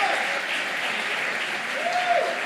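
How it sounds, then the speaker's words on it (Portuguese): Steady applause from a church congregation fills the space, sustained and fairly even throughout. "Se vai aplaudir, pode aplaudir bem forte, pode glorificar bem forte."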